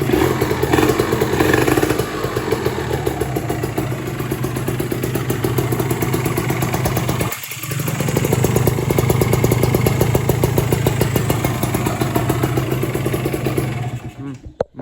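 A Kawasaki ZX150 two-stroke motorcycle running close by: a loud, raspy engine idling with a brief cut in the middle, then settling back into a steady buzzing idle before dying out, with a person speaking over it.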